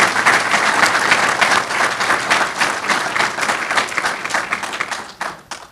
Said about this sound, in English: So let's give all our elected officials a round of applause.